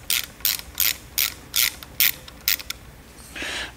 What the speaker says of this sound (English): we're gonna take the head of the pump off by, I think these are 7 millimeters